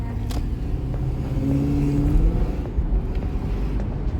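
A Lexus SC430 convertible driving with the top down, a low engine rumble building briefly as it turns, with wind buffeting the open cabin.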